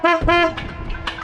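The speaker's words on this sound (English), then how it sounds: "every night, all the boats in the marina honk their horns or clang their pots." A loud boat horn blast sounds briefly in a marina, followed by fainter overlapping horn toots from other boats in the distance.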